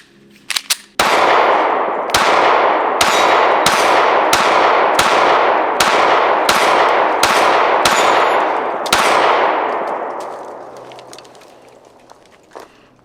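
A Taurus GX4 subcompact pistol fires eleven sharp, loud shots in a steady rhythm roughly a second apart, each with a brief ringing echo, after a few small clicks, then quiet.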